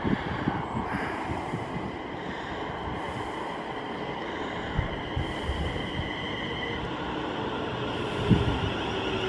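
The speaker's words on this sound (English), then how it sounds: "Another local train come from London going to Birmingham New Street." A local passenger train from London to Birmingham New Street runs past near Long Buckby, a steady rumbling, throbbing roar with repeated rhythmic wheel beats over the rails, heard outdoors without speech.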